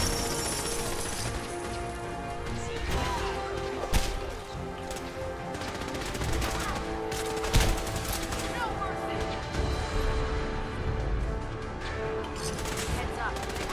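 Gunfire in the Fallout 4 video game, rapid shots and impacts over a loud, dense battle mix, with voices heard through the action.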